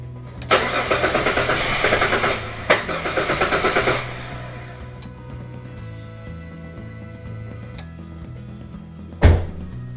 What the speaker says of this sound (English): and now we're supposed to turn the engine over